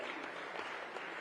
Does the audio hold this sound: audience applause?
yes